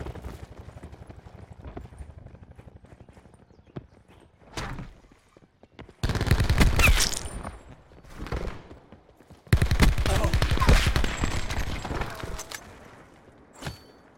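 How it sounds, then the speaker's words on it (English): The Peacekeeper gun firing in Black Ops 4, two loud sustained bursts of rapid automatic fire separated by quieter gaps with scattered single shots and movement sounds. "I feel like the peacekeeper shoots fast enough."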